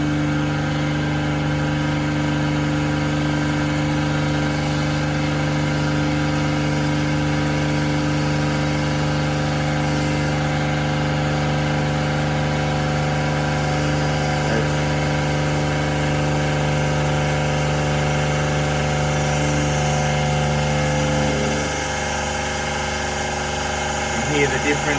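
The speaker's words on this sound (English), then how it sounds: "Hear the difference in the motor there." A Dessalator D90-200 PRO watermaker motor runs steadily with a strong electric hum and whine, holding constant for a long stretch before its tone shifts and drops near the end as pressure rises.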